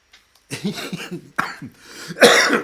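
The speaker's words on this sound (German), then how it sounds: "muss ich wirklich husten" Several sharp coughs in quick bursts, fairly close and loud, separated by short pauses, with the last cough the strongest.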